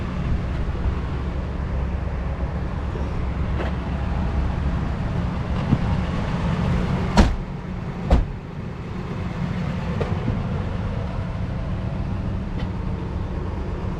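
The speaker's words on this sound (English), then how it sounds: "All the doors close beautifully." Two solid thuds of a 1991 Mercedes-Benz 420 SEL's doors shutting, a second apart, over a constant low engine-like rumble and background noise.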